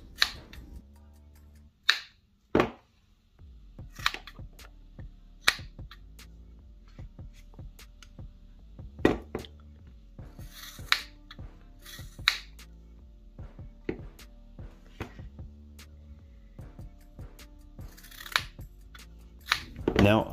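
Small everyday-carry scissors snip again and again at tough Dyneema thread, sharp close clicks and blade snaps in an uneven series, with quiet pauses and a low hum between cuts.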